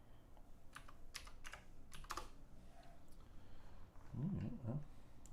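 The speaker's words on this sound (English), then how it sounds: "I gotta keep typing it back in." Fast clicking of computer keyboard keys in a few short bursts, close and fairly quiet, with some faint low background noise.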